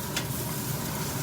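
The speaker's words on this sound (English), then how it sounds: "here on the frying thing, I got some garlic, ginger, and some white onions. Okay, so that's frying up" Garlic, ginger and white onions sizzle steadily in a hot pan, a close, continuous crackling fry with no talking.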